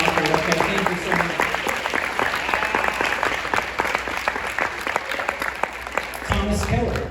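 An audience at a high school band banquet awards ceremony claps steadily and closely, a dense patter of many hands that continues without pause until a low thump near the end.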